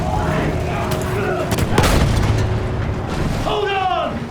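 Battlefield 1 battle sounds with a field gun firing, rumbling shell blasts and crackling gunfire throughout, one heavier boom near the middle, with a voice shouting over the din.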